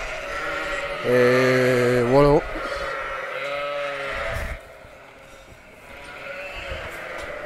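Sheep in a farm pen bleat at feeding time, one loud wavering bleat near and prominent, followed by further quieter bleats and pen noise, with a brief spoken remark.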